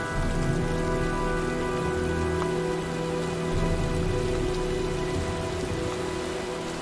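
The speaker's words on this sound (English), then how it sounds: "looks like a storm's coming" Steady rain pours in a storm in the video game Heavy Rain, a constant close hiss of drops on surfaces with a low background hum, no voices.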